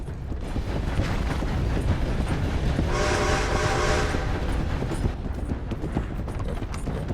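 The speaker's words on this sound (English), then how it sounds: "And now we see if I can outrun a train." Train rolling past in the video game Red Dead Redemption II, loud and close with continuous rumble and clatter, a horn blast sounding in the middle.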